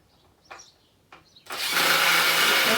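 Two brief faint scrapes, then a power drill driving a screw into wood whirs loudly and steadily up close, running continuously to the end.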